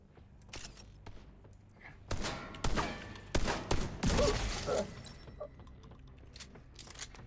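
Video game gunfire cracks out in several loud bursts through the middle stretch, with sharp clattering and shattering debris mixed in, quieter scattered shots before and after.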